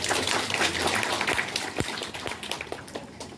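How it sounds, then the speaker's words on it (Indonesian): Scattered, modest applause from an audience at a primary health service launch event, a thin patter of clapping lasting a few seconds. "Memang saya tahu tepuk tangannya tidak meriah karena tidak ada dari KPU di sini"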